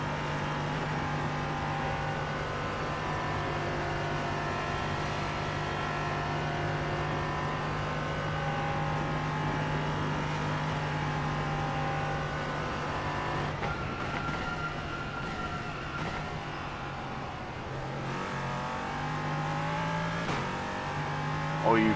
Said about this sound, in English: you hear this V8 front noise on the way past.